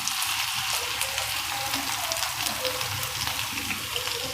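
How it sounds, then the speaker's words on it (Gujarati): Potatoes frying in oil over low heat until crisp and brown, a steady dense crackle with fine sizzling throughout, close and continuous, with no voices. "એકદમ કડક અને બ્રાઉન થઈ જાય ને ત્યાં સુધી ફ્રાય કરવાના"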